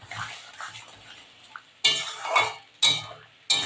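Ginger garlic paste sautés in a pan for chilli paneer, a soft sizzle overlaid by several loud, regular spatula scrapes and clanks against the pan.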